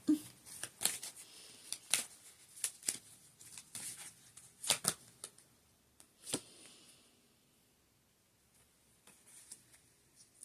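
Playing cards being shuffled and handled up close, a string of quick, faint riffles, snaps and flicks in irregular bursts, with quiet pauses between them.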